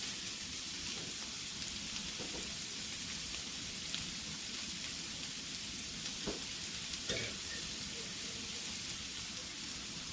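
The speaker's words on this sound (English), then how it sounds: "Garlic and chilies right in there. Curry leaves." Garlic, chilies and curry leaves sizzle and spit in a hot pan, a dense, steady crackle with occasional sharper pops and stirring clicks, close and continuous with no voices.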